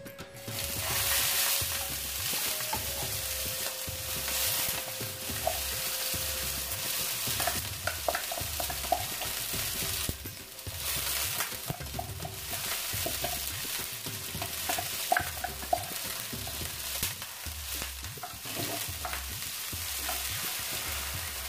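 Onions frying in olive oil in a hot tagine, a steady, dense sizzle across the whole stretch, with scrapes and clinks from stirring that come and go, close and fairly loud, with no voices.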